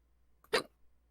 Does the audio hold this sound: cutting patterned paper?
no